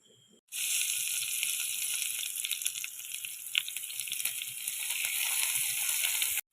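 Coconut oil hits a hot stone set over a fire and bursts into a loud, steady sizzle after a brief quiet moment, hissing continuously until it cuts off at the end.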